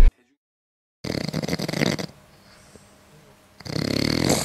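People snoring while asleep in lodging on a trip to Japan, a loud rough snore filling the first second, then a quiet stretch, and another loud snoring burst near the end.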